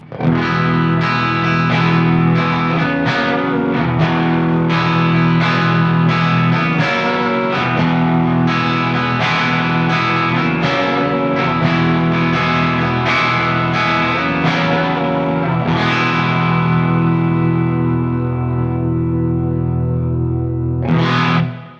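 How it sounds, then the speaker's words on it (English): A distorted Greco EG-600 electric guitar on its hot bridge pickup plays chords and riffs with a thick, growly tone, loud and continuous, ending with a sustained ringing chord. "So as you can hear, it's a pretty hot pickup"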